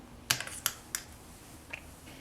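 A blade slices through a polymer clay cane, trimming off excess pieces: a few sharp, separate clicks and taps close by, with short gaps between them and no voices.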